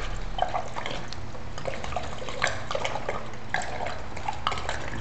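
Red wine pours from bottles through a funnel into the bag of a bag-in-a-box, making a steady close gurgling trickle with small splashes and drips, continuous and without voices.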